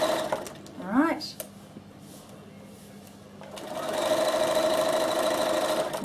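A sewing machine stitches fabric for gardening gloves in short bursts, humming steadily near the end, with a person talking over parts of it.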